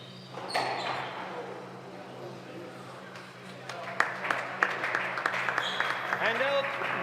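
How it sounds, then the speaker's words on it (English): Supporters cheer and call out for a player during a tie-break at a BDO darts open in Namibia, a steady crowd murmur lifting into scattered claps and shouts, heard moderately near under continuous background noise with no clear words. "Supporter cheering him on, saying Dierwald"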